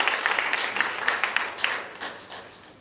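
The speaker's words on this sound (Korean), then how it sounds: "박수 좀 부탁드리겠습니다" Audience clapping at a science and technology policy debate for a provincial governor candidate, a brisk patter of individual claps that gradually tapers off, moderately quiet with no voices.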